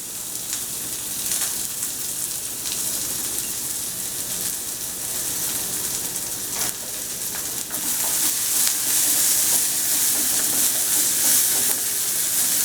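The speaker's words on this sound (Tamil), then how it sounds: "சட்டி காஞ்ச உடனே வெங்காயம் போடுறேன்." Finely chopped onion fries in a hot pan with a dense, continuous sizzle and crackle, loud and close, swelling a little toward the end, with faint stirring beneath.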